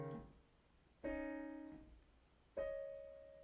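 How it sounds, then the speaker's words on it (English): Three separate piano chords or note clusters played on the groups of two black keys, each struck cleanly and left to ring and fade, spaced over a few seconds, close and alone without voices. "I'm going to play all the groups of 2 black keys here."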